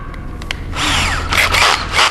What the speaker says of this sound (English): now I can get in there, drill my pilot holes